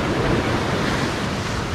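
Pacific Ocean surf washes steadily onto the shore during rock-bass fishing, a continuous broadband roar of breaking water mixed with wind buffeting the microphone, loud and unbroken throughout.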